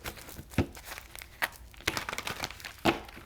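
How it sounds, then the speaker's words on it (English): Soft papery riffles and crinkles of tarot cards being shuffled, with several sharper flicks spaced irregularly, quiet and close by, without any talking. "I'm going to shuffle it until it feels ready."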